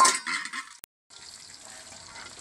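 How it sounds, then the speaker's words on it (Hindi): Okra pieces frying in a pan for aloo bhindi, a steady crackling sizzle with stirring scrapes, pausing for about a beat before the sizzle resumes more softly. "भिंडी डाल के 1-2 मिनट के लिए मैं इसे ना पका लूँगी, फ्राई कर लूँगी"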